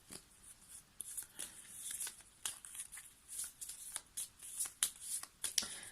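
Oracle cards are shuffled by hand in quick, crisp bursts of riffling and sliding, close and fairly soft, with no talking.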